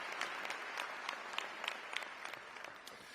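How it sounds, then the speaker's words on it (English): Applause at a college commencement ceremony, a steady patter of many hands clapping from a sizeable audience, fairly soft and continuous throughout. "Let's give all of them a round of applause."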